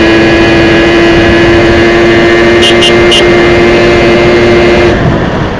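A Yamaha V80 motorcycle engine with no air filter runs at a steady high drone throughout, loud and close, with a few brief higher blips partway through and a slight drop at the end.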